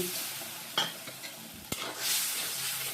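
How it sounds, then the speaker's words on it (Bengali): Turmeric masala with a splash of water cooks in a pan for a lentil and cabbage dish, with a soft sizzle and hiss, a couple of sharp spoon clinks and scrapes, and a light bubbling burst after them. "জল দিয়ে একটু কষালে মশলাটাও পুড়ে যাবে না"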